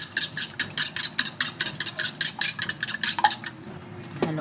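A utensil stirs and mixes breakfast ingredients seasoned with black pepper in a dish, scraping in fast, steady strokes against the bowl for several seconds before stopping with a final clink.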